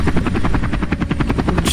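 A helicopter in the BoneLab video game going down, its rotor thumping in a fast, steady rhythm with a loud, close, continuous engine drone throughout.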